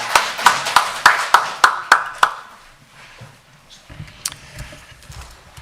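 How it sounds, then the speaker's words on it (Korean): A church congregation at a Sunday worship service claps together in a slow, even beat, about eight loud, sharp claps in a row. The clapping then breaks off into quieter room murmur and a few scattered knocks. "하나님께 박수 한번 드리겠습니다."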